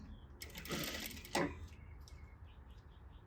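A sewing machine stitches a princess seam on a fabric bodice in one short, fairly loud run of about a second, then stops and leaves a quiet room.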